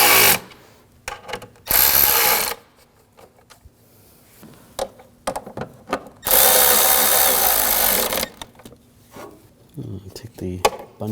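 Power tool whirs in two loud, sustained bursts as bolts are tightened on the ignition coil bar of a 2007-2013 BMW 328i 3.0L inline-six, separated by quieter clicks and handling sounds close by.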